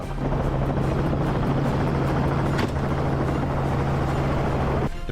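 A helicopter roars continuously with a deep, steady rotor drone and engine hum, loud and close, with gunfire cracking during a wild boar hunt in Turkey, ending with a sudden shift.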